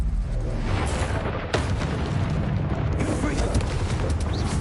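Spell-casting effect from a wizard video game, a dense, continuous blast-like roar with a sharp burst near the middle, loud and sustained throughout.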